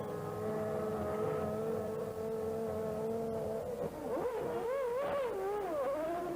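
Formula One race cars at the German Grand Prix howl past at high revs, a sustained loud engine tone that later rises and falls in sweeping pitch shifts as cars accelerate and brake close by.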